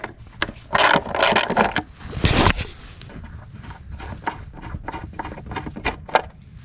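A bolt being unscrewed on a 2008–2009 Gen 3 ZX10R motorcycle fairing gives a burst of sharp ratcheting clicks, then a run of quieter, evenly spaced clicks close to the microphone.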